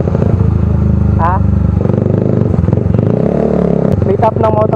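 A motorcycle engine runs steadily and loudly nearby with a rough low drone, under someone talking over it, and with brief higher squeaks and clatter.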